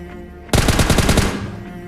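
A loud, close burst of roughly ten rapid automatic gunshots rattles out in PUBG as a buggy's tire is shot out, cutting in abruptly and fading into a short ringing tail, with no talk.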